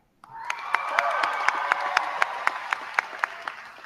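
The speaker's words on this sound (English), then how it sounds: "one last round of applause for our wonderful custodial staff" An audience bursts into applause for the custodial staff after a brief silence, a full sustained round of clapping with sharper individual claps ringing out near the front at a regular pace.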